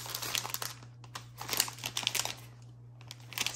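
An Etsy package being opened by hand: close, irregular bursts of paper crinkling and rustling, with brief quiet gaps, over a low steady electrical hum.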